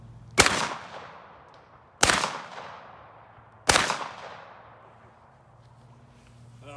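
Three loud, sharp gunshots ring out a second or two apart, each with a long decaying echo, fired at a cheap car outdoors.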